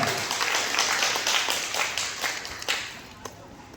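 An audience at a business motivational talk breaks into applause, a burst of scattered claps with sharp individual slaps that thins out and fades toward the end.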